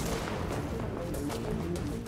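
Dense, continuous gunfire in The Division during a co-op firefight, rapid overlapping shots sustained loudly throughout with no pause.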